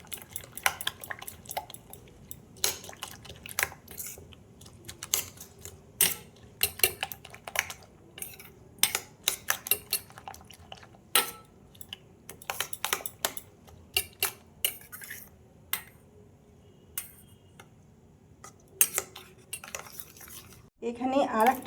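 A spoon clinks and taps rapidly against a bowl while an egg mixture with salt, chaat masala and flakes is stirred, irregular close metallic ticks with brief pauses.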